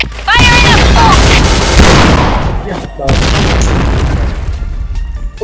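In the Point Blank video game, a loud grenade explosion booms with a heavy blast, followed by a rattle of gunfire and a second burst, dense and close throughout.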